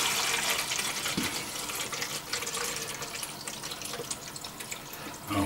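Water pours steadily into the side reservoir of a HOMGEEK programmable coffee maker, a continuous close splashing fill with no talk.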